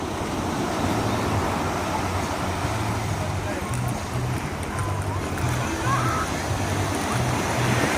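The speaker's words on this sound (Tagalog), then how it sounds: "Pasok alon." Ocean waves roll in at a beach, a continuous broad surf wash under steady wind noise, with a faint low repeating hum throughout.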